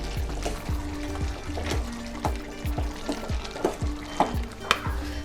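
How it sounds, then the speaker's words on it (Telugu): Dal is stirred into cucumber cooking in a pot, making repeated close scraping and wet sloshing strokes in an uneven rhythm over a soft bubbling simmer. "ఇప్పుడు పప్పు వేసేసుకుందాం. పప్పు కలిసేలా కలుపుకుందాం."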